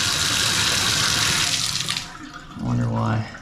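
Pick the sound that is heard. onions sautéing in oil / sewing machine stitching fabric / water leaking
water leaking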